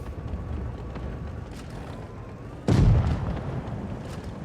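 Tank cannon in World of Tanks Blitz fires a single loud, deep boom that hits sharply partway through and rolls off slowly over a steady engine drone.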